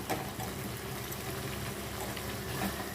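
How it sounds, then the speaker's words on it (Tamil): Garlic chilli chutney simmers in a pan with oil separating out, a steady close bubbling and gentle hiss that holds an even level throughout with no talk over it. "இப்போ இந்த மாதிரி நல்லா கொதிக்கணும் எல்லாம் சேர்ந்து எண்ணெய் பிரிஞ்சு தனியாக வரணும்"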